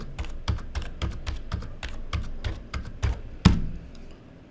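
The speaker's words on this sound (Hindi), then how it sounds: "एक average user serial number generate करने के लिए टाइपिंग का इस्तेमाल करता है" Typing on a computer keyboard, roughly a dozen crisp keystrokes at an uneven rhythm with one sharper, louder key press near the end, close and alone.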